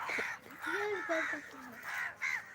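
Crows caw repeatedly in the evening, a series of harsh, fairly close calls spread through a short stretch of outdoor sound.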